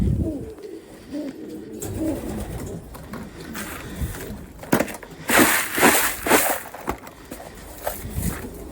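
Racing pigeons coo softly in a stock loft, low murmuring calls close by, with intermittent rustling and shuffling of birds and feed.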